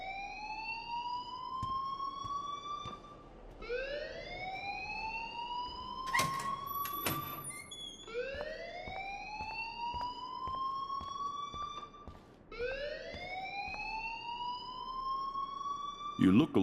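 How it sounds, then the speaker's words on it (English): A school alarm in the video game Life is Strange wails in repeated rising electronic sweeps, each cycle climbing and holding for a few seconds, loud and continuous, with brief clattering and voices breaking in. "please turn off that alarm since that's your job"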